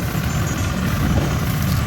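A tractor engine runs through a Pusa 1885 paddy harvest, giving a steady, loud, low diesel rumble that holds without a break and carries no talk.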